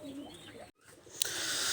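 Pigeons in a loft give faint, low coos. A brief dropout cuts the sound, then a sharp click is followed by a steady hiss.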